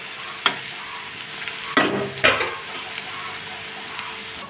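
Onions and ginger garlic paste sizzle in a pan, with a few sharp scraping stirs of a spoon over a low, steady frying hiss.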